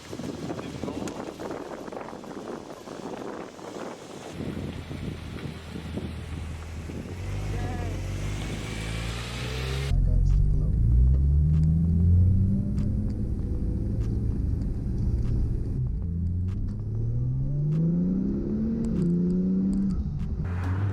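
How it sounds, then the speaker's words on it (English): Porsche 911 Turbo supercar driving, its engine rumbling low and rising through revs in a few swelling pulls, heard from inside the cabin over wind and road noise. "Driving my first supercar."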